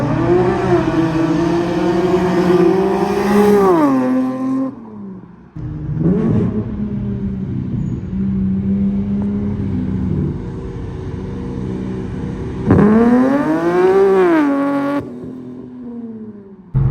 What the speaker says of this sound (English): I'm gonna go ahead and add some flybys that I already have of this exact exhaust setup, just so you guys could hear it.